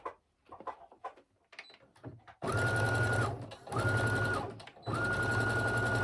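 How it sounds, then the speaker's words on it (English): A sewing machine runs zigzag stitches over elastic for mini leggings, in three loud steady bursts with short pauses between them, after a quieter stretch of handling noises at the start. "just gonna zigzag my elastic"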